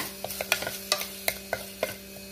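Masala frying in ghee for a kurma gives a soft sizzle under quick, regular spoon clicks and scrapes against the pan, close by, with no voices and a faint steady hum beneath.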